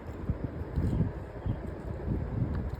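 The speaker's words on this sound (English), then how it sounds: "It's windy." Low, blustery wind rumbles against the microphone in uneven gusts, with faint rustling underneath and no voices.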